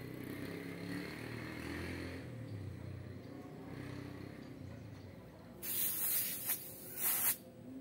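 Pressurized air bursts out of a loosened fitting on a car's AC line during a DIY freon refill, two loud hissing spurts near the end after a steady low background.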